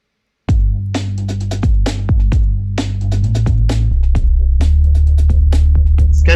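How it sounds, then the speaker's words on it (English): Unprocessed Reese-style bass preset on the Pigments synth, played as a run of short, punchy notes with sharp attacks over a sustained low drone, loud and alone. "It's kind of like a Reese bass"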